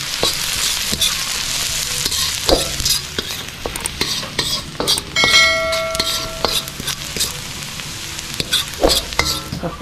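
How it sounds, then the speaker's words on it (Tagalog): Garlic sautés in a pan before butter and prawns go in, a bright steady sizzle with rapid, repeated spatula scrapes and clinks, one metallic ring midway. "start na tayo manggisa. Unahin muna natin ang bawang"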